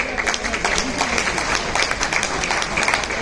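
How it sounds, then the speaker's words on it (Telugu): Steady applause from an audience at a Lions Clubs International district cabinet installation ceremony, dense clapping sustained throughout with some background murmur. "ఒక్కసారి కృష్ణారెడ్డి గారికి చప్పట్ల ద్వారా తెలియపరచండి."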